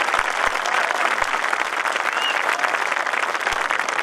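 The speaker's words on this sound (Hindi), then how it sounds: "उठाइए जोरदार तालियां।" An audience claps loudly and continuously at a Hindi poetry recital, a dense wash of applause filling the whole stretch with no speech on top.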